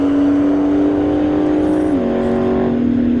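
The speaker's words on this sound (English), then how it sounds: "So we had a Porsche 911 Turbo in the left lane." A Porsche 911 Turbo at a drag strip gives off a steady, loud engine drone that shifts pitch slightly partway through as it accelerates, with no talking.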